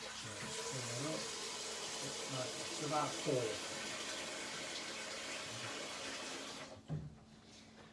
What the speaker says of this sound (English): we're going to need some more water in there anyway